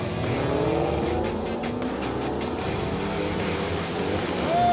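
Muscle cars launching side by side down a drag strip at a No Rules event, one with more power struggling for traction on big tires; a loud, continuous engine roar fills the whole stretch and swells near the end.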